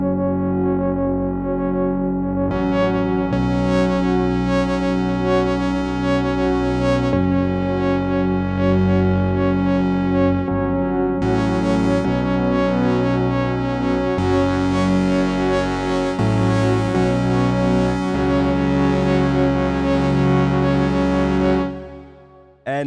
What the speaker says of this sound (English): Synth Missing is a very warm sound that can be used very well with chords.